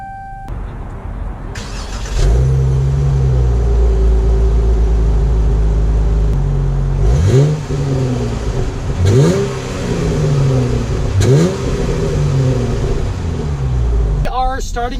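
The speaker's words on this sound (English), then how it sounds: "let's take the GT all-wheel drive Challenger out to see how it drives." A 2019 Dodge Challenger GT all-wheel-drive coupe starts and settles into a loud idle. The engine then gives several sharp revs that rise and fall, close by. Motor noise fills the span, with a brief clatter at the end.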